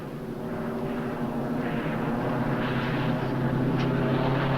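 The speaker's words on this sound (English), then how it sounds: "It's the first British plane we've had." A British propeller plane flying overhead, a steady droning engine hum that swells gradually louder as it nears, with no talk.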